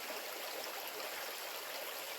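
A natural stream flows steadily outdoors, a continuous broadband rush of running water with no voices, holding an even level throughout.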